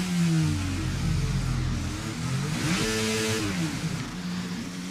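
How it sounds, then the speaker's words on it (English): A Formula 1 car engine in a racing video game revs up and down through a full 360-degree spin, its loud, steady tone rising and falling with no other sound over it. "full 90 degrees and then a revving of the engine and complete 360"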